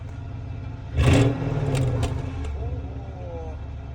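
A Mercedes S-Class S221 with a 4.6 bi-turbo engine gets a short, light blip of the throttle, one brief rise and fall in revs heard up close before it settles back to idle, with someone speaking nearby.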